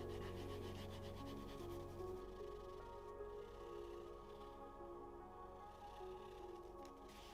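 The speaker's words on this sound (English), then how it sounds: "We're going to get our cloth and we're going to rub it." Canvas cloth rubbed briskly along a leather edge to burnish it, a steady close-up friction sound with continuous rhythmic scraping throughout, no talking.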